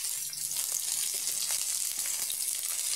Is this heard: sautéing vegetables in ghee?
yes